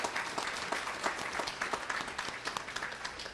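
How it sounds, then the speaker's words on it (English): A steady round of applause for the caterer at a high school spring sports banquet in Ste. Genevieve, Missouri, dense even clapping throughout with no talking. "So how about a nice round of applause for Cheryl Wolk?"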